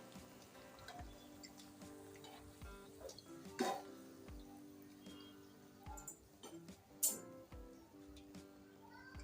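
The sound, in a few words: lifting fried jalebi from the oil with tongs into a strainer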